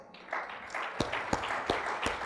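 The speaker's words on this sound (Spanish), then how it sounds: "Le damos un aplauso al Señor" Light, quiet applause from a Spanish-speaking church congregation during a Christian sermon, a few sharper claps standing out over a soft wash of clapping.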